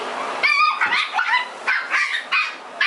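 A puppy barks and yips in short bursts while playing with another dog, close and fairly loud, with brief whimpering sounds between the barks.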